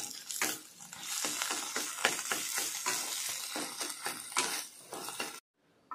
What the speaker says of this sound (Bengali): ডিমটা ভাজা হয়ে গেছে, ভুজিয়ার মতো ভেজে নিয়েছি